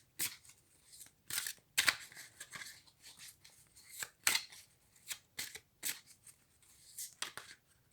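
Tarot cards are shuffled by hand in a quiet room, a series of soft, quick riffling and slapping bursts in an irregular rhythm, close and fairly faint.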